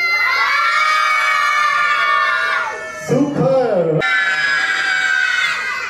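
Children at a saree ceremony game shout and cheer together in a loud, sustained chorus, which breaks off briefly before a second burst of yelling resumes, with an adult voice calling out over the noise.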